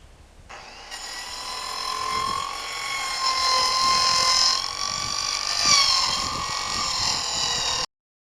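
A power saw biting into a sheet of plywood on a house-building project, a steady high-pitched whine that starts abruptly and holds for about seven seconds with slight rises in pitch, then cuts off cleanly.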